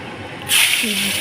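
Grated coconut hits a hot pan with cumin, bay leaf and chili, setting off a sudden loud sizzling hiss that carries on steadily, close by, with no voices over it.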